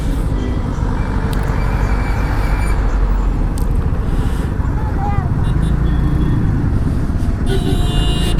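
Busy road traffic at a destination in Ooty: a continuous loud wash of car and truck engines with occasional horn toots and brake hiss, with people talking over it.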